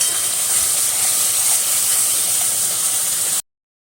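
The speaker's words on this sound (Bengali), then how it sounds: "কাঁচা গন্ধটা যতক্ষণ না যাবে ততক্ষণ মশলাটা আমি ভেজে নেবো" Masala spices frying in a pan for a thin chicken curry give off a loud, steady, close hiss for about three and a half seconds, then stop abruptly. No talking.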